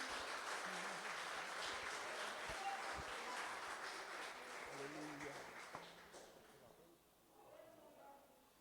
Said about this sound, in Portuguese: Você pode aplaudir Jesus.